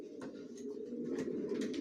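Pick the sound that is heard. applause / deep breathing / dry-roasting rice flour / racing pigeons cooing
racing pigeons cooing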